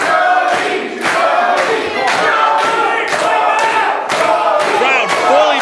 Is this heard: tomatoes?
no